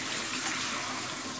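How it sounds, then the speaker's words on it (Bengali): Water poured into a cooking pot over fried onions, spices and oil while pulao is prepared, a steady close rushing pour running unbroken for the whole short stretch. "আমি হচ্ছে এখানে পানি দিয়ে দিলাম।"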